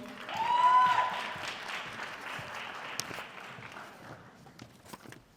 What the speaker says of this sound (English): One more round of applause for these wonderful students.